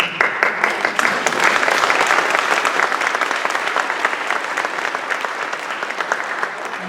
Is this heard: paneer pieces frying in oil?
no